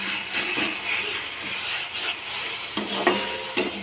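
A spoon stirs sauce through pea kachori filling frying in a pan, with a steady sizzle and a few sharp scraping knocks against the pan toward the end, close and moderately loud.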